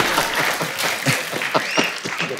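Studio audience claps loudly and steadily for guests arriving on stage, a dense continuous applause with a few sharper claps standing out near the end.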